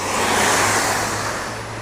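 Engine of a Honda XR125L motorcycle revving, a loud, continuous, broadband roar that holds steady and eases slightly toward the end, close to the rider.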